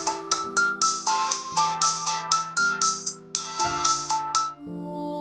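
Phone ringtone of an incoming call in a Pakistani drama scene, a repeating electronic melody of short bright tones over a steady bass line, loud and close, with no talking.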